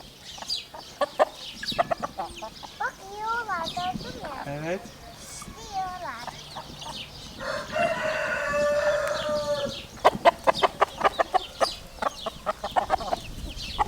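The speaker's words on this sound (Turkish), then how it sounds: "Tavukları bir kovala bakayım nasıl kaçacaklar" Chickens cluck and squawk nearby amid farmyard noise, with people talking over them and a rooster-like call rising briefly.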